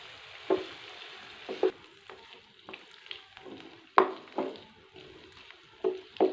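Chopped onions fry in a pan for an egg, potato and tomato omelette, with a steady sizzle broken by several sharp scrapes and stirs at irregular moments, up close and with no talking.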